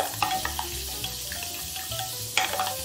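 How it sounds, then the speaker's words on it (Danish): A meatball mixture seasoned with cumin and salt is stirred in a bowl, giving a soft wet squelching and scraping with a few sharper clicks, close and steady, with no voices. "Og så rører vi rundt."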